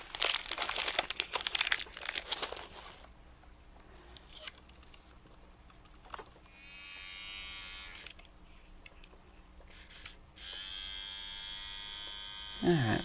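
A small electric motor inside an Omnibot 2000 toy robot whirs in short, quiet bursts. Fainter rustling and handling noises fall between the bursts.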